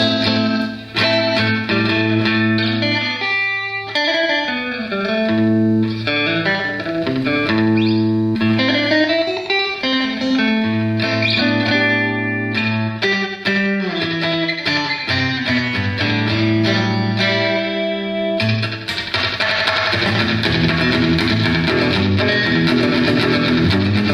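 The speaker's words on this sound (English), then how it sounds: "Definitely cool slapback effect, and with a little distortion." Boss DD-3 delay pedal set to a short slapback echo with slight distortion on a guitar, with a steady bass line and sustained chords playing loudly and continuously, repeats smearing each note, brighter and denser near the end.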